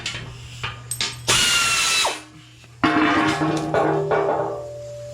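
A power tool whirs in several short bursts, removing skid plate bolts under a Jeep Gladiator or Wrangler during a winch mount install, with ratcheting clicks between loud spin-ups and a brief pause.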